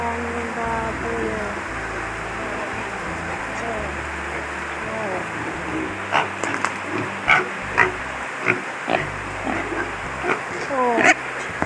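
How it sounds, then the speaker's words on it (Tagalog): Pigs grunt and oink in short, repeated bursts during an outdoor Mother's Day celebration, heard beneath steady rain-like background noise and people talking nearby. "Yan yung baboy."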